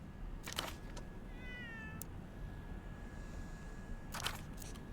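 A cat in the video game Zero Parades gives a short, faint meow in the middle, set against a quiet hum and a few sharp clicks before and after.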